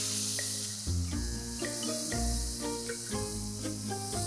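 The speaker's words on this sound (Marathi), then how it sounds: "आता आपलं हे जे बॅटर आहे ते आपण तव्यावर टाकूया." Batter for raw jackfruit pole poured onto a hot oiled tawa gives a steady, close sizzling hiss throughout, with soft clicks and scraping of the spreading underneath.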